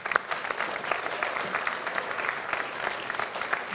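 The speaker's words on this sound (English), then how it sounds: "Give them a round of applause." At a Year 12 prize-giving at Rolleston College, an audience gives a sustained round of applause, with many hands clapping at a steady, moderately loud level throughout.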